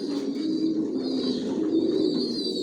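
Racing pigeon master pairs resting in a loft give a steady, close, low murmuring coo that runs unbroken for a few seconds, with no talk.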